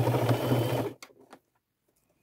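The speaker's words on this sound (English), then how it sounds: "sew around the edge, not across the top, and then I'll go back and do it again so that it's double stitched" A sewing machine runs a steady stitching burst along a backpack seam being double stitched, close and loud for about a second, then stops, leaving a few faint handling clicks and rustles.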